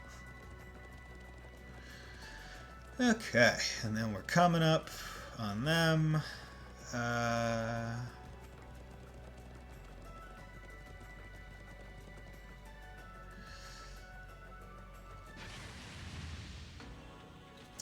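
Horses in the game Trails of Cold Steel II whinny loudly in a few sharp neighing bursts over quiet galloping hooves, with someone talking now and then.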